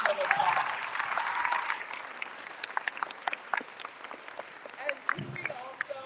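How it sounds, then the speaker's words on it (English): Applause from an audience at a political event swells at first, then thins to scattered individual claps and light crowd noise, with a voice briefly heard. "Another round of applause."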